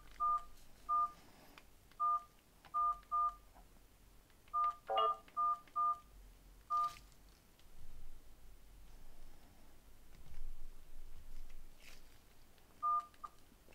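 Keypad tones from a Sony Ericsson V630i Music Edition phone: short, faint electronic beeps in small clusters and single presses, spaced irregularly over a quiet room background with no talking.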